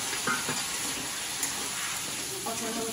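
Spice paste, cumin paste among it, frying in a pan for a Bengali mutton kosha, a steady soft sizzle with faint stirring scrapes throughout.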